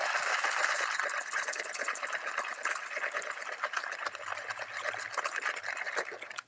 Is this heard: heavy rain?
no